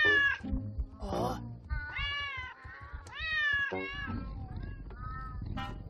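Cartoon cat in an animated film meowing in a string of drawn-out, wavering, close meows and yowls, loud and expressive, with a few short pauses between calls.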